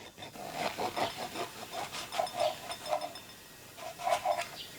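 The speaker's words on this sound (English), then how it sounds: "And I will cut the baguette. I'm cutting it diagonally." A knife saws diagonally through a crusty baguette, a rhythmic series of rasping strokes at close range, fairly quiet and without talk.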